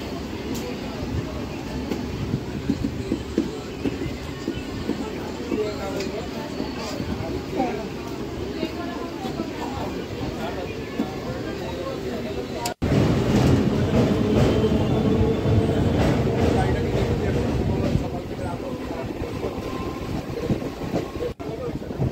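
A Kolkata Circular Rail train runs between stations near Patipukur, giving a steady, loud rumble of wheels and carriage noise that jumps louder with a jolt partway through and continues unbroken.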